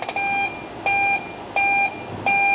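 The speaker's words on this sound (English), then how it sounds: "I also want to stop that alarm." A Salva oven's control panel sounds an alarm, four steady electronic beeps of equal length repeating at regular intervals, clear and alone.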